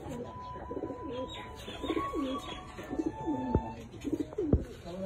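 Racing pigeons at a pigeon club cooing close by in repeated soft, throaty rolling phrases, several calls overlapping, with a few brief clicks and thumps in between.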